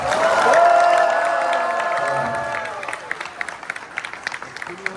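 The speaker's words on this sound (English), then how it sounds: "Give them, please, a round of applause." An election victory crowd gives a round of applause after a mayor's re-election speech in Dearborn, Michigan, with loud cheering that fades into scattered, ongoing clapping, and no voice over it.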